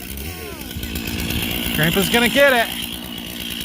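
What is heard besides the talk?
chainsaw cutting down a Christmas tree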